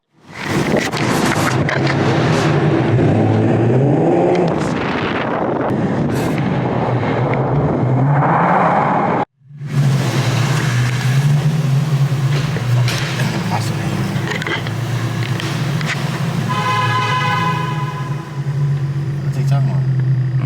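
An Infiniti G37 fitted with a Y-pipe and a muffler delete revs hard, giving a loud, raspy roar that rises and falls through several throttle blips, with a brief cut partway. People talk and shout over the engine.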